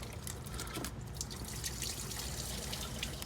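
Coolant trickling and dripping steadily from a car's kinked radiator hose, a faint, continuous watery dribble with no talk over it.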